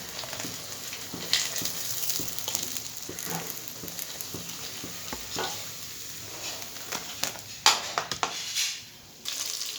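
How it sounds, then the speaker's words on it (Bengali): Pointed gourd (potol) fries in oil over a high flame with a soft continuous sizzle broken by stirring scrapes and utensil clatter, growing busier near the end. "ভাজা হয়ে গেছে, বাদ বাকি পটলগুলো আমি এইভাবেই ভেজে নেব।"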